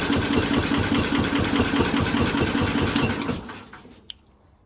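A 1969 Bolens FMC Husky 1053 tractor engine, cold, cranks and runs briefly in a loud, close, rapid chugging beat for about three seconds, then sputters and dies out, followed by a single sharp click.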